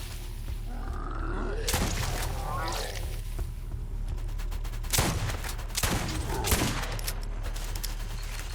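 Defense turrets blasting at zombies in Borderlands, with sharp gunfire bursts at irregular intervals over a steady low game drone, mixed with zombie grunts and a voice talking.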